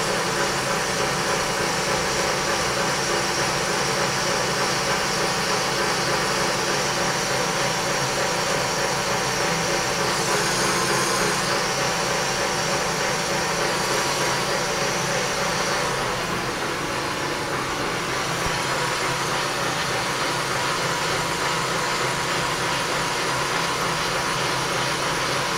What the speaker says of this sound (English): we set back to a coarser feed here so it faces off a little better